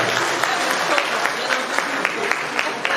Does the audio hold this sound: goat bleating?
no